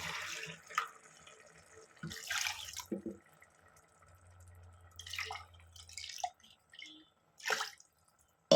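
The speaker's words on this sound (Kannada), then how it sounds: "ಈಗ ಇದಕ್ಕೆ ನಾನು ಒಂದು ಆರು ಕಪ್ಪು ನೀರನ್ನ ಸೇರಿಸ್ಬೇಕು" Water trickles and drips intermittently into a pot of millet rice and spice for cooking, heard in scattered soft pours and splashes with quiet gaps between them.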